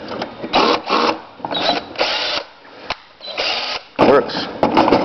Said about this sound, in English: Got my drill in here.